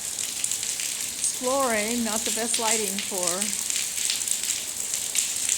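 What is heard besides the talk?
rain falling outside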